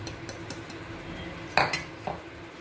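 Flour mixed with crushed peanuts and roasted gram is stirred in a metal cooking vessel for porula urundai, giving a few scraping clinks of a spoon against the pot, one louder burst midway, close and alone without talk.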